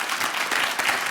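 Brief burst of audience applause at an agriculture and rural affairs committee hearing, a dense wash of many hands clapping steadily for about a second, moderately loud in a hall.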